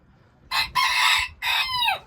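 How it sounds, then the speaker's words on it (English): A rooster crows in a backyard chicken farm with ducks kept nearby, giving two loud calls close to the listener. The second crow trails off in a falling tone, and the background is quiet apart from a faint low rumble. "we got some chickens up there, ducks down here"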